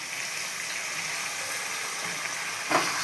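Sliced okra frying in a wok gives a steady, close sizzle that holds even throughout, with a brief louder crackle near the end.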